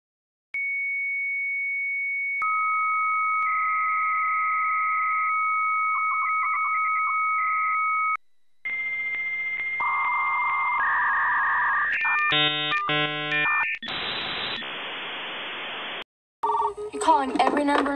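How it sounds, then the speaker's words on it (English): Dial tones and beeping tones from a computer modem in the film War Games, with steady sustained tones followed by rapid stepped bursts of dialing and answer signals, loud and close with no voices over them. "They answer with a tone that other computers can recognize."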